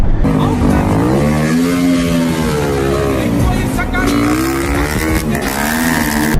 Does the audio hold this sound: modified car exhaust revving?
yes